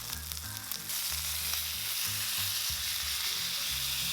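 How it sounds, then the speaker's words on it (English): A teriyaki steak, just flipped, pan-fries in a skillet to brown its second side, giving a continuous, even, crackling sizzle over low background music, with no talking. "Now we're gonna flip the steak and pan fry until this side becomes golden brown as well"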